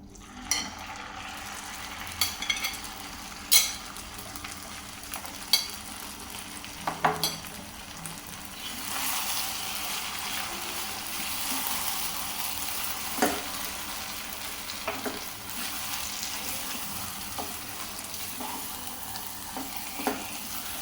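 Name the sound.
milk and egg mixture poured into frying vermicelli, sizzling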